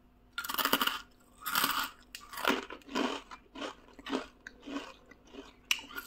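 Crisp, crunchy bites and chewing of an instant poha chakli, a deep-fried spiral Diwali snack, sound close up in a quiet room, with several sharp snaps followed by rhythmic munching.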